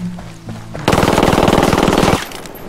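Uzi submachine gun firing in Ghost Recon Wildlands, one sustained loud burst of rapid automatic shots lasting just over a second, close and alone.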